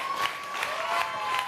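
A studio audience at Star Academy, a televised French music competition show, season 1 in 2001, applauds steadily, a dense wash of clapping at moderate volume with no clear pauses.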